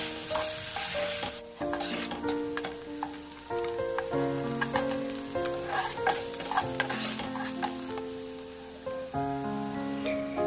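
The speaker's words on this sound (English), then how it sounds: "Then add the onions and cook until they start turning golden brown." Onions frying in a pot with cooked potatoes, a busy sizzle broken by repeated stirring scrapes and clinks, with tonal ringing from the pot throughout, heard up close and with no talking.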